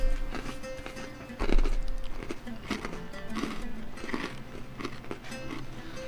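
Someone bites into and chews a crumbly freeze-dried astronaut space food biscuit. Close, dry crunches and crumbling crackles repeat at an uneven pace, with a light background rumble.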